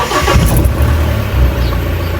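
A vehicle's engine runs loud and close, a deep, steady rumble with a slight rise in revs as it gets going, heard alone without talk.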